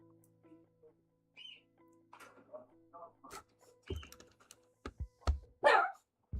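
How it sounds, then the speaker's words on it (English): Several short, sharp dog barks ring out toward the end, preceded by quieter chirps and rustling in a mostly quiet room. "What are you barking at?"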